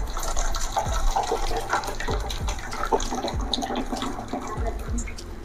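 Water pours off cooked tomato dal in a kitchen, a continuous close splashing trickle with repeated gurgling pulses.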